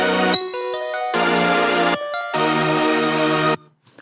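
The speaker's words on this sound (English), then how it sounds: "We have these little bell pluck sounds, and it's actually 2 sounds put together. This is actually a mixture of a music box sound" Synth bell plucks layered with a music box preset play a short melodic figure in a melodic dubstep track, as bright sustained notes with brief gaps, loud and alone.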